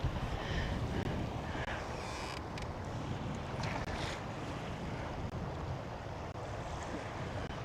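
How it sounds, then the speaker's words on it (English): Strong wind gusts across a lake buffet the microphone on a bass fishing boat at Patoka Lake, a steady loud roar with low rumble and lapping water, continuous throughout with no talking. "I think the wind is even so strong it's grabbing my anchor and pulling me back too"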